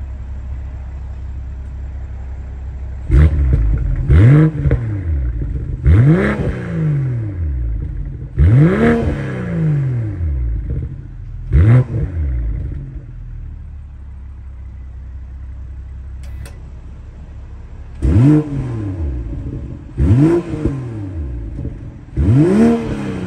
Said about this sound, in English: about to rev it right now